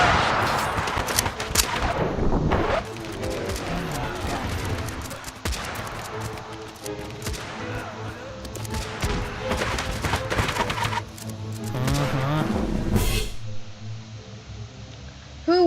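Loud, continuous volleys of gunshots and machine-gun bursts from a mass battle between red and blue armies in Totally Accurate Battle Simulator, with heavy thuds and a sharp blast near the end.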